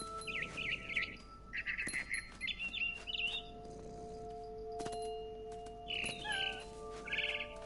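A scared barn swallow chirps in the video game What Remains of Edith Finch: a run of quick, high, quiet twittering bursts with short pauses between them, set against a soft musical ambience.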